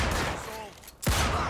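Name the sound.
gunfire in the video game Mafia 2: Definitive Edition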